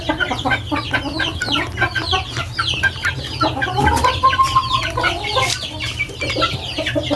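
Several chickens cluck steadily and fairly close in a freshly cleaned backyard coop, the overlapping calls forming a busy, continuous flock chatter with no one speaking.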